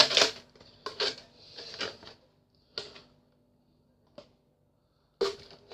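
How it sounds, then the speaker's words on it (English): Nail scissors puncturing holes in a thin plastic drinks bottle, a series of sharp plastic crackles and pops close up, separated by brief silences, with one small click midway. "puncture them through with your nail scissors"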